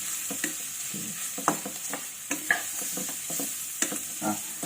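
Bacon sizzles and crackles in a pan for carbonara, with frequent stirring clinks and spatula scrapes over a constant frying hiss, close and clear.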